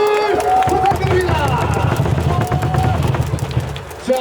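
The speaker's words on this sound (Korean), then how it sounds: "김도영 선수에게 다시 한번 박수!" A crowd at a KIA Tigers baseball game claps and cheers for a player, a busy wash of applause and stadium noise that lasts throughout, with an amplified voice talking over it.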